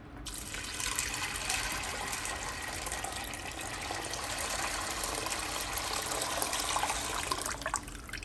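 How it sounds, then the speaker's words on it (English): Tap water runs steadily into a pot of beans for a Mexican breakfast dish, a continuous close hissing splash lasting several seconds before cutting off, with no talking. "So now we are going to put the water in."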